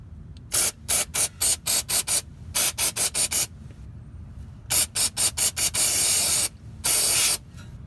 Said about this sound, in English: I'm gonna go ahead and spray some of the brake cleaner on it now